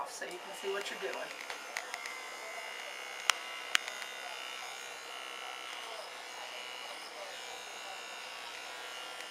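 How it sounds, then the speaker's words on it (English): Electric clippers buzz steadily while shaving hair off a young goat kid's head before disbudding, a continuous thin hum running throughout with two brief sharp clicks near the middle. "The first thing you do is shave the hair off so you can see what you're doing."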